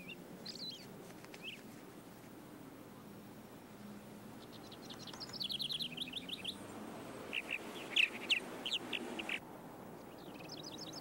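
Purple martins, large swallows, calling around martin nest houses: bursts of chirping and warbling twitter, several birds at moderate distance over a steady outdoor background.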